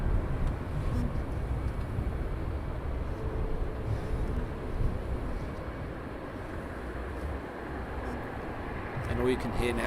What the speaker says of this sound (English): all you can hear now is the cars going past